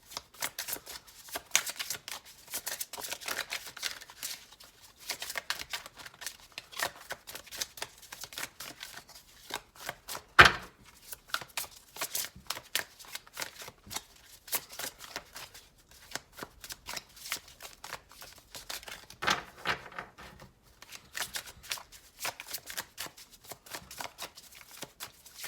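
A deck of tarot cards is shuffled for a reading, a long run of close, crisp riffling and slapping card sounds in rapid irregular bursts, with one sharper snap near the middle and no talk.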